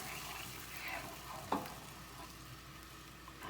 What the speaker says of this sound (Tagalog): Haluin po muna natin.